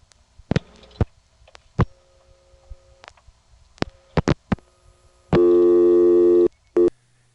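Scattered clicks and short tones from a 1978 Siemens motor switch telephone exchange on a phone line are followed by a steady, loud buzzing tone lasting about a second, then one brief final burst.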